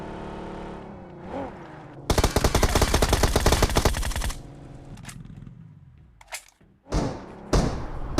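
Rapid automatic gunfire in Battlegrounds Mobile India from a bot enemy: a dense, loud burst of repeated shots lasting about two seconds, with thuds before it and a few scattered shots and impacts afterward.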